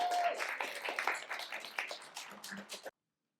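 An audience at a poetry slam in a public library claps for a poet, a brief burst of scattered applause that thins out and stops abruptly.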